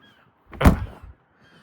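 An old car door at a car graveyard is pushed shut, a single short muffled thunk that stands out loudly against near silence.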